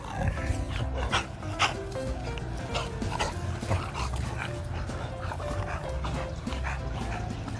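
Several dogs at an informal dog race in a playground, barking, yipping and whimpering in an excited, overlapping jumble, close and continuous, with occasional voices in the background.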